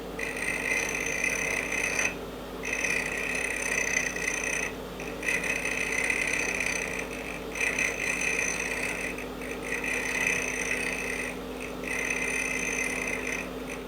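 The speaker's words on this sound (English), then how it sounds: "Okay, we're back on the lathe." A metal lathe runs steadily while threads are cut on a nut, a continuous machine whine with a constant tonal hum, briefly dipping at a few moments, with no talk.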